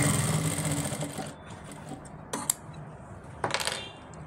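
A sewing machine stitches a ladies' pant, its steady mechanical whir running loud at first, then easing off, with a few sharp clicks and knocks from the fabric and plate handling.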